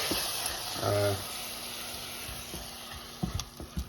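A slightly too hot pan of paprika chicken sizzles steadily, a bright frying hiss with occasional crackles and stirring scrapes, while a voice briefly hums near the start.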